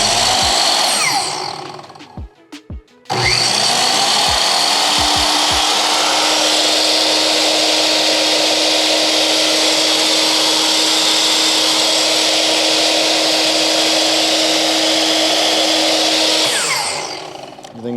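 A Bauer 10-inch dual bevel sliding miter saw powers up after a few clicks, its motor whining at full speed in a loud steady roar for about fourteen seconds before spinning down.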